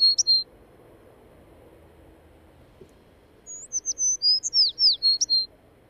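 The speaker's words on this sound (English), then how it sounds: "he's surrounded with blackbirds and seagulls" Blackbirds and seagulls around a feeding spot give short bright calls, one at the start, then a burst of repeated chirps and cries in the second half over a low outdoor rumble.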